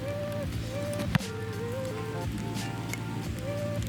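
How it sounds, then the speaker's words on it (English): Rain falls steadily on an outdoor football field during punting practice, a soft, even hiss that runs throughout with one sharp tap partway through. "The rain is starting to come down"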